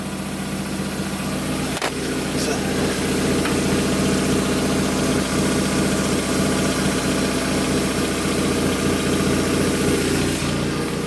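Ford Fiesta Mk6 running on a freshly fitted Powerflow exhaust, its engine idling in a steady, close, continuous rumble with a slight knocking texture. A brief sharp click breaks in near the start, and no voices are heard.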